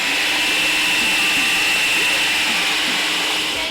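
A small electric grinder whirs steadily at close range as it grinds flaked corn flour into finer flour, giving a loud, even motor whine with no pauses.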